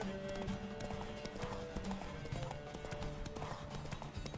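Horse hooves clip-clop in a quick, steady rhythm, faint and somewhat distant, with a brief whinny and an urging voice nearby.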